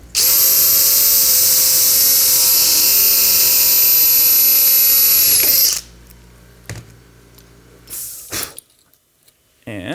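A rivet tool sets rivets into a polycarbonate back support: a loud, steady powered whine runs for about six seconds, then cuts off, followed by a few sharp clicks and mechanical clatter under quieter voices.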